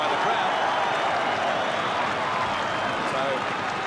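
A large crowd roars and applauds after a goal at a 1983 Carlton Australian football match, a dense, sustained wash of noise with a commentator's voice over it.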